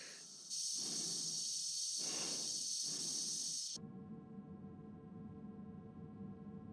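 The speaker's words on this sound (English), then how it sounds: "The breathing is making me anxious." An astronaut breathes inside a space suit in 2001: A Space Odyssey, with slow, rhythmic hissing breaths over a steady high electronic whine, followed by a quieter, lower hum.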